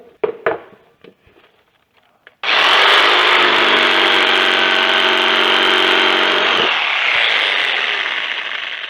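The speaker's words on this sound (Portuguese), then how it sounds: "Então nós vamos fazer um corte com a lâmina tico-tico para acabamento." Jigsaw with a fine finishing blade cutting solid hardwood: after a few light knocks, the saw starts abruptly and runs loud and steady with a harsh buzzing rasp for about six seconds, then continues slightly lower toward the end.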